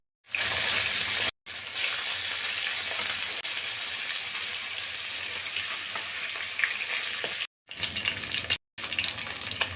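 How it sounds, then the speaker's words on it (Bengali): Carp fish pieces fry loudly in hot oil, a strong, close, continuous sizzle broken by a few brief cuts near the start and end. "মাছ ভাজা"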